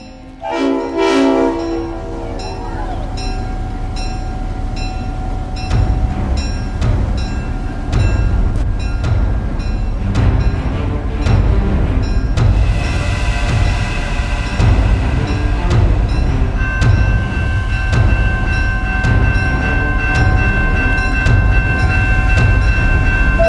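Train ride with a horn blast at the start, then steady rolling rumble and clickety rhythm of wheels on rails, loud and close, with sustained whistle-like tones later; no talking.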